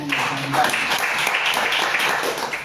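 A church congregation breaks into dense, steady applause, loud and close, sustained for a few seconds with voices mixed in.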